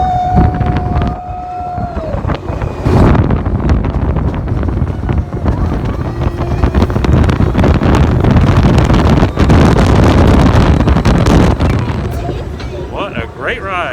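Test Track ride vehicle at Disney's Epcot racing along at speed: continuous loud rushing wind and roar buffeting the microphone for the full stretch, with onboard voices heard briefly under the noise.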